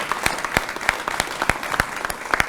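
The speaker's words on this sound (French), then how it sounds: "On les applaudit aussi." Scattered audience applause at a mayor's New Year wishes ceremony in Reuilly, honouring the youth councillors: sparse, uneven claps from a modest crowd, fairly close, with no voices over it.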